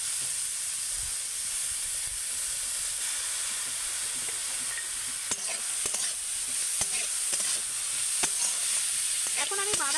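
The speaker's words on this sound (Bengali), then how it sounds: "এবার আমি এর মধ্যে দিয়ে দেব গ্রেট করে রাখা বাঁধাকপিগুলো।" Grated cabbage and cumin fry in a pan with a constant bright sizzle, while a spatula stirs and scrapes in scattered clicks and knocks through the second half.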